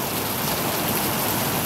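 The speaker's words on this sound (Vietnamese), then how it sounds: "Trời mưa như trút nước" Heavy rain pours down hard in a thunderstorm, a dense, loud, unbroken hiss of water with no voices over it.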